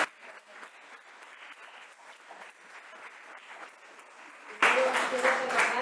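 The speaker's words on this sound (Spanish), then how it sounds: "un fuerte aplauso." Applause from a lecture audience, starting softly with scattered claps under a voice and swelling into loud, full clapping near the end.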